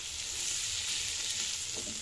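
Potato, minced meat and peas frying in a pan, a close, even hiss of sizzling oil that holds steady throughout with a faint stir near the end and no talk.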